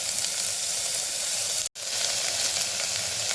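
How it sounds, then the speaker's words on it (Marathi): Tomatoes are sautéed in a pan with a loud, steady hiss of frying. The sound cuts out for an instant midway, then resumes just as strongly. "त्याच्यामध्ये टॅमॅटो टाकणार आपण त्यालाही थोडंसं परतून घेऊ आपण"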